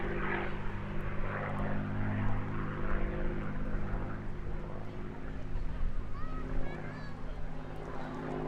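A 1943 Vickers Supermarine WWII propeller aircraft from Castle Bromwich drones steadily overhead at a coastal airshow, its engine a continuous distant roar with faint crowd and commentary sounds mixed in.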